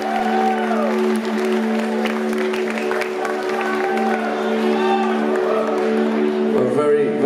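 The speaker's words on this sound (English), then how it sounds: "Please give yourselves a round of applause." A concert audience at Webster Hall in New York applauds and cheers, with steady dense clapping and crowd noise that runs the whole way through, loud and unbroken.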